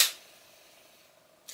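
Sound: Voigtlander camera slow shutter mechanism running

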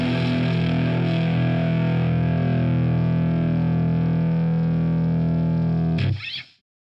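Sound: guitar through a UAD distortion plugin

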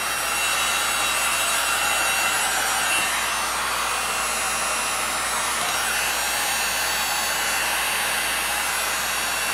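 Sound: heat gun blowing on acrylic paint pour

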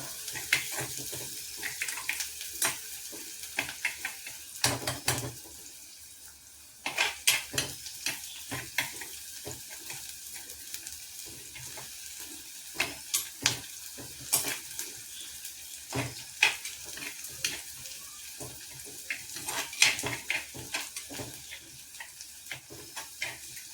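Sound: frying onions in a pan

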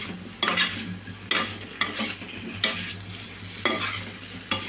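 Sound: stirring boiled tapioca with salt in a pan

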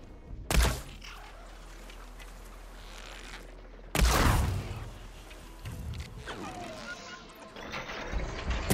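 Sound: weapon shot in video game Horizon Forbidden West

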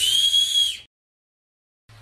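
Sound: 3D-printed whistle being blown

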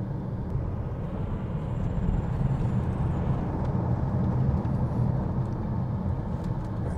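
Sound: Tesla Model S Plaid driving uphill

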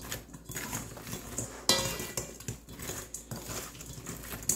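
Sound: mixing chicken wings in a bowl

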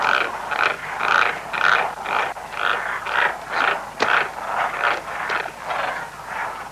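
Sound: frogs croaking

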